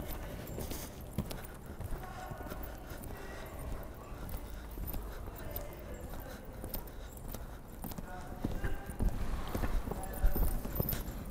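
Riding-school horse clip-clopping steadily through an arena exercise, hooves falling in an even rhythm, with ambient noise and faint instruction in the background.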